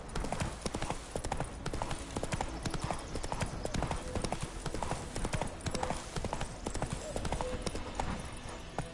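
Continuous rhythmic clip-clop of horse hooves trotting in the video game The Witcher 3: The Wild Hunt, steady and close, with a few faint voices underneath.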